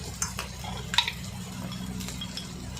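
Rice with turmeric and chili powder is stirred and fried in a pan, giving soft scraping and a few light clinks of the utensil over a steady low sizzle, close and quiet.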